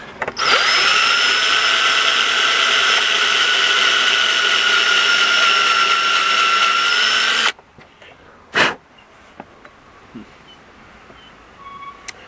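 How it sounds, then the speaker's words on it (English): A power drill bores out a broken screw lodged in a floor sander, whining loudly and steadily for about seven seconds before stopping, followed by a sharp clunk and a few faint clicks in a quiet room. "I keep on drilling it"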